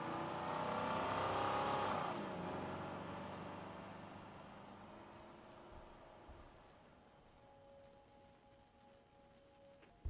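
A car in the video game Life Is Strange 2 roars loudly at first, then its engine drone fades and settles into a quieter, steady hum as it drives away.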